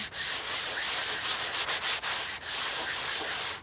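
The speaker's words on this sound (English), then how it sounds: "I kind of want to use this one now. This other sanding sponge and kind of go a little further." Steady abrasive rubbing of a sanding sponge against chalk-painted fabric, close and continuous, with a few brief pauses between strokes.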